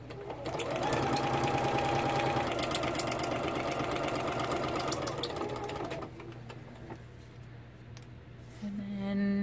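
A sewing machine stitches fabric in a rapid, even mechanical chatter, running steadily for several seconds, then slowing and pausing briefly before the motor hums up again near the end.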